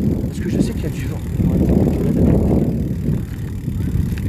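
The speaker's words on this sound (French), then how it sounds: "je sais qu'il y a du vent." Steady low wind rumble buffets the microphone throughout, with faint rustling and no speech.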